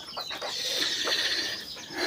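Chicks and hens huddle drowsily in cold winter weather, giving faint, scattered peeps and soft clucks at close range, with no talking.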